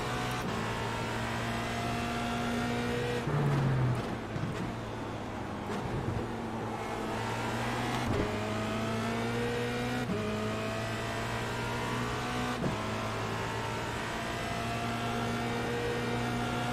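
Formula Renault 2.0 race car in a racing game, its engine holding a steady high-pitched drone that shifts pitch at intervals as gears change and revs rise and fall, loud and continuous throughout.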